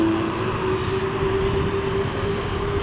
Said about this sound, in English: Is that plane ready to go?